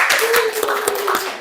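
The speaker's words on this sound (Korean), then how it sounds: "우리 박수 한번." A church congregation claps during a Korean Sunday communion service, with quick rhythmic hand claps under a speaking voice, moderately loud and close.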